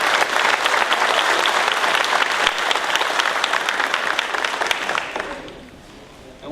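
Sustained applause from an audience gathered in a hall, dense and loud for several seconds before fading away toward the end, with faint voices under it.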